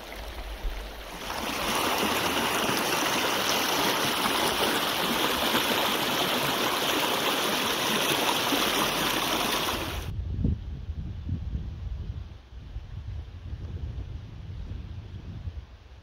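Water in a stream rushes loudly and steadily at close range for about ten seconds, then drops to a softer, more distant flow with low rumbling.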